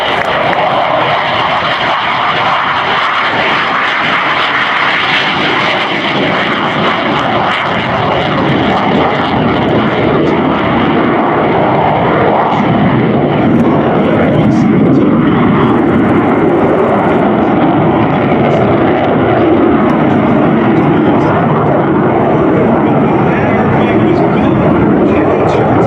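A pair of F-15 Eagle fighter jets making a two-ship flyby at the Dayton Air Show, a loud, continuous engine roar that swells and holds for the whole stretch, close and overpowering.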